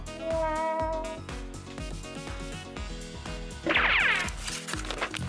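A cat gives a single short, high meow partway through, heard over loud, busy background music.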